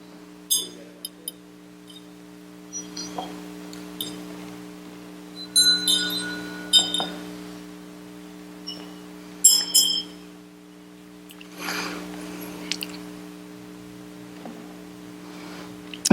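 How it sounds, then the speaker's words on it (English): A small ritual bell rings during a Tibetan Buddhist Twenty-One Taras chant session, giving bright metallic strikes and clinks that recur through the passage over a steady background drone, with soft voices now and then. "when I ring my bell or my damaru, you're going to do it too?"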